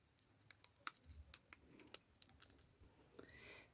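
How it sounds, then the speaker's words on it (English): Scissors snip through fabric on old skinny pants, with a quick run of sharp, irregular clicks and cuts close up, some louder than others, against quiet background. "now I'm going to take my scissors and cut a sharp point down at the bottom"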